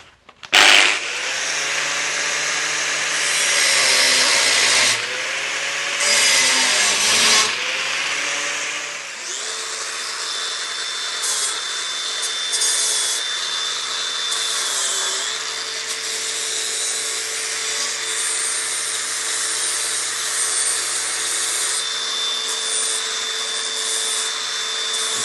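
Cutting tool working the metal corners of a hand truck frame before welding, a loud steady grinding whine with rubbing bursts in the first seconds, then a continuous even cut through to the end.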